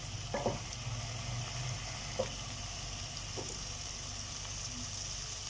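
Onions and spices frying in a pan for kofta curry give a soft, steady sizzle at low volume, broken by a few faint stirring knocks.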